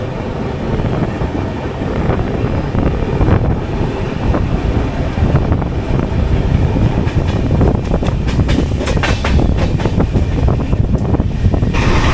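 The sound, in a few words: 16511 Kannur Express train running, AC 3-tier coach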